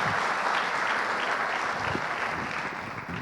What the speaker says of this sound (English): Big round of applause for what Baji and Anil have done for Indian cricket